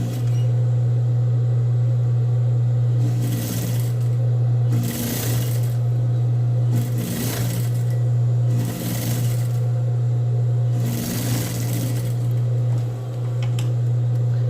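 A sewing machine runs a temporary basting seam along a zipper in several short bursts of rapid stitching separated by pauses, over a constant low electrical hum.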